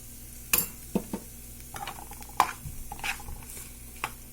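Ginger with cumin powder, turmeric and salt frying in a pan, a faint low sizzle broken by a few scattered stirring scrapes and clinks of a utensil against the pan.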